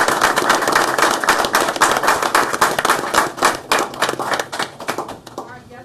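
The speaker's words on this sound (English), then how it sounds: "let's give him another round of applause" A room full of people at a Harrisonville Board of Aldermen meeting gives an honored employee a round of applause: loud, dense clapping that carries on steadily for several seconds, then thins out and fades at the end.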